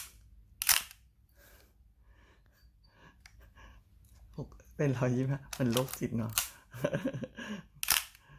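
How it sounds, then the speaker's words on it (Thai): A few sharp shutter clicks from a Pentax K1000 SLR film camera, spaced out across the clip, with a person speaking in between and over them. "ชอบ SLR มากเลย ชอบเสียงชัตเตอร์อ่ะ"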